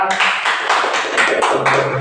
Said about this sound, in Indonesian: Mari tepuk tangan kita.